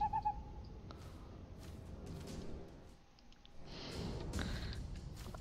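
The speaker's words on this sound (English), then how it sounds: "I'm gonna summon my owl." Summoned owl in Divinity: Original Sin 2, a short hoot at the start, then rushing wing-like whooshes and game ambience at moderate volume.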